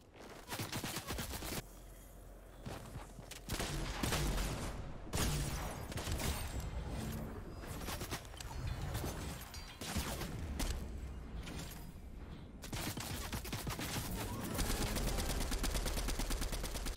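Dense gunfire and mechanical clatter from a heavy shotgun during a Fortnite Chapter 3 match, with repeated loud blasts and rattling mixed into a continuous, busy game soundscape that stays fairly even throughout.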